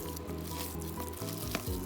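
Avocado oil heats in a skillet for turkey burgers, giving a soft, steady sizzle with faint crackles, close by and fairly quiet, with a low hum underneath and no talking.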